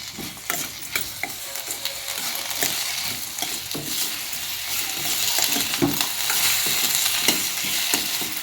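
Tomato and tamarind chutney fries in a pan, hissing and sizzling steadily up close while a spoon stirs and scrapes it in irregular clicks and scuffs, with no one talking.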